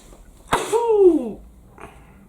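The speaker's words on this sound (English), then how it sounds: "I'm going to sneeze" A single close, loud sneeze: a sharp burst followed by a drawn-out voiced tail, then a faint breath afterward.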